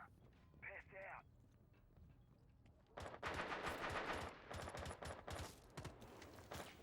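Rapid automatic gunfire and single shots in a Rainbow Six Siege esports match, dense loud bursts beneath commentators talking throughout.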